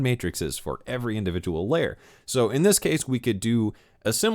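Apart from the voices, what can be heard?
No everyday noises stand out.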